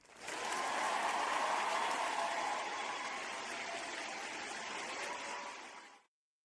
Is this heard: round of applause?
yes